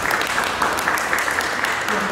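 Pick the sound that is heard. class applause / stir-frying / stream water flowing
class applause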